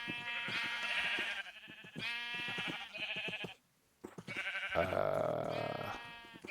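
Sheep in the Minecraft video game bleat repeatedly, several loud, close wavering calls in succession separated by a brief silent gap, with no talk over them.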